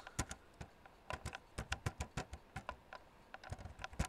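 Rapid, uneven clatter of keys on a computer keyboard as Java code is typed, with clicks bunched into quick bursts and short pauses, close and fairly quiet with no voices.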